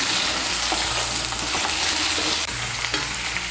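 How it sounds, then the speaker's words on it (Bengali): Chopped pointed gourd being stirred into hot oil, giving a loud, dense sizzle with scraping and clattering from the stirring, close and continuous. "পটলগুলোকেও মিশিয়ে নেব তেলের সঙ্গে।"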